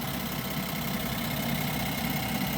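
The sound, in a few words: 2025 Ram 1500 SST engine clicky ticking noise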